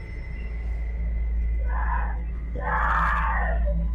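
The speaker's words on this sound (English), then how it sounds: "this footage of his daughter having a panic attack in the middle of the" A girl screaming at night during a panic attack: two strained, wailing cries, the second louder and longer, over a constant low electrical hum in a quiet room.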